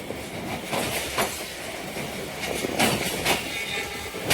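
A passenger train rolling into Narang Mandi station on the Narowal section, with continuous rumble, clattering wheels and occasional brake squeals, steady and close.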